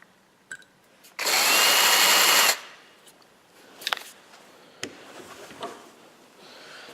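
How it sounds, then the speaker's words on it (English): A power drill bores into a custom shift knob bushing with a larger drill bit, giving one loud, steady whirring burst of about a second and a half, followed by a few faint clicks and taps. "So we'll step up to the next size drill bit"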